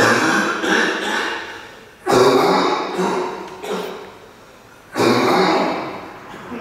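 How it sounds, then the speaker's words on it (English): A few harsh, throaty coughs or throat-clearing bursts, close by, spaced a couple of seconds apart, each trailing off into quiet breath. "Cough happening."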